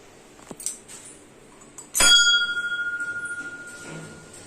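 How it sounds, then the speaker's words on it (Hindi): A small bell in a home prayer room is struck once, giving a bright ring that decays slowly after a few faint taps, with light background noise. "जहाँ पे एक छोटा सा घंटी है।"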